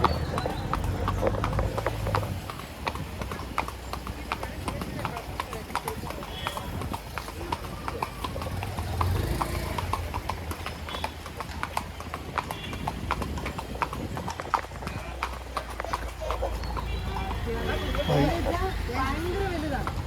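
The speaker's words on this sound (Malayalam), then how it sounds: "ആ ഒരു സൗണ്ടില്ലേ കുതിരൻ്റെ?" Horse hooves clip-clop steadily and continuously during a ride near the Kodaikanal boat house, close and fairly loud, with people talking throughout.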